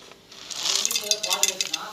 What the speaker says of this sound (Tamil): எடுத்து பட்டை, கிராம்பு, ஸ்டாரு, பிரிஞ்சி இலை போட்டுடலாம்.